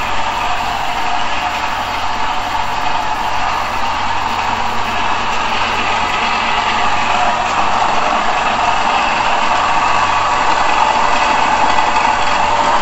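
A generator engine runs continuously and loudly nearby, a steady droning hum with a bright mechanical whine layered on top, holding an even level throughout with no voices.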